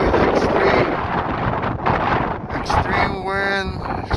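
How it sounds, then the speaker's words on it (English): Extreme wind in a high desert food forest, loud gusty buffeting roaring across the microphone, with a voice speaking briefly near the end. "But today, extremely windy."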